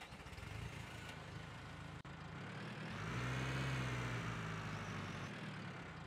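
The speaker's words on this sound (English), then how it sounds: "So we just need to hop in a tractor." A tractor engine idles and drones in a Cattle and Crops farming video game, a steady low rumble that swells briefly midway, faint and continuous without talk.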